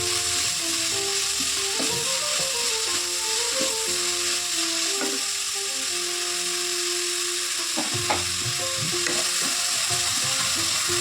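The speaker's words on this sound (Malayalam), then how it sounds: "ഇനി ഇതിലേക്ക് സവാള നല്ല തിന്നായിട്ട് സ്ലൈസ് ചെയ്തെടുത്തത് ഇട്ട് കൊടുക്കണം" Thinly sliced onions frying in a pan, a steady bright sizzle that holds evenly throughout, with faint scraping and stirring touches near the pan and no talk.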